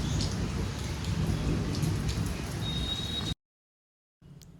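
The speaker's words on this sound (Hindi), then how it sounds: "हाँ ठीक ठाक हो रही है। बारिश में मुझे घर की बहुत याद आती है" Heavy rain pours steadily and loudly for about three seconds with a rumbling undertone, then cuts to silence before faint rain resumes at the end.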